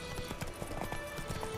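Roach, the horse in The Witcher 3, trotting with a steady clip-clop of hooves in a quick, even rhythm, fairly close and moderately loud over a faint game music bed.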